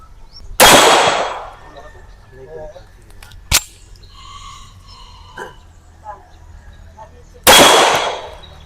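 Gunshots fired at a DIY reset target at an outdoor range, with two loud sharp blasts several seconds apart and a brief metallic clang between them, with faint talk in the background.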